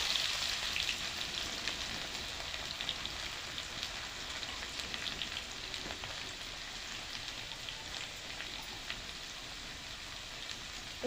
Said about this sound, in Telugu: అక్కమ్మక దంచుకున్న ఎల్లిపాయలు రెండు గడ్డలు పోపులు వేసుకోవాలి